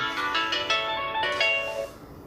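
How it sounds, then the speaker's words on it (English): A phone ringtone plays a bright, melodic electronic tune with repeated chiming notes, fairly close, then stops. "My phone is ringing."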